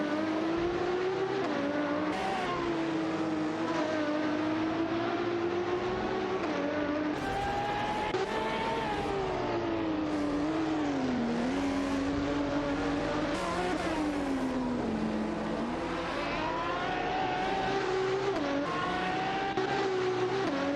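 Race cars in a racing video game corner and jostle for position, engines whining in a continuous high drone that dips through braking and climbs again, dense with several cars at once and no voices.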